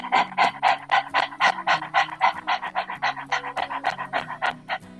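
Rapid, rhythmic dog-like panting during a yogic breathing exercise, about twenty quick close breaths in steady succession, alone without talk.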